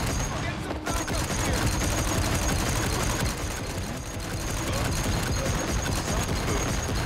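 Continuous dense gunfire in the Desperados 3 video game at a wedding on an estate, rapid overlapping shots forming a steady loud fusillade with voices mixed in.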